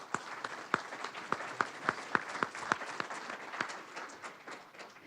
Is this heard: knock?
no